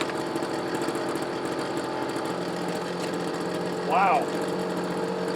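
A Homelite ZR leaf blower's small two-stroke engine runs steadily on half choke with a buzzing drone throughout, and a brief high-pitched chirp cuts in near the end; a voice briefly speaks.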